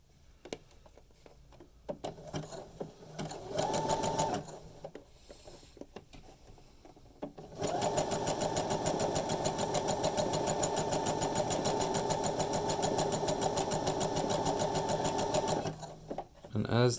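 A sewing machine stitches fabric scraps into cording, with short bursts of rapid mechanical whirring that give way to a long, steady run, alongside occasional handling clicks and a voice talking at the start.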